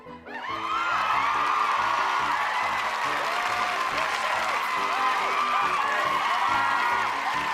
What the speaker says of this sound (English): Audience cheer